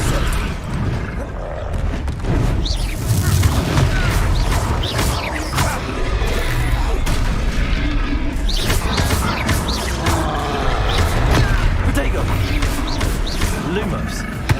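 Combat in the Hogwarts Legacy video game with the Confringo blasting spell: dense, loud bursts, crashes and thuds tumble over one another for the whole stretch, with a voice shouting over the fight.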